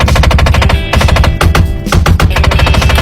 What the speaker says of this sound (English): window actuators are going out, so it sounds like I'm having a hell of a firefight in here